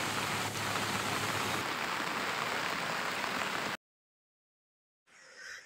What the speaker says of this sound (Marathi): खूप पाऊस लागलाय गावाला।